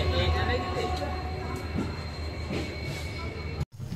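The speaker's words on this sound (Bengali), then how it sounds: "ক্রস করছি হরিপুর গ্রাম জাংশন, এর সাথে সাথে ওড়িশার পুরী জেলা শেষ করে আমাদের ট্রেন প্রবেশ করল খুর্দা জেলায়" Puri–Shalimar Sri Jagannath Express passing through Haripur Gram junction in Odisha, heard as a loud, steady rumble of rolling coaches and wheel noise that cuts off abruptly near the end.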